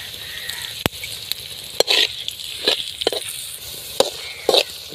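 Ghee and ginger-garlic paste sizzle with quail in a karahi, a steady frying hiss broken by several sharp stirring scrapes and clanks of the spoon against the pan, close and fairly loud, with no talking.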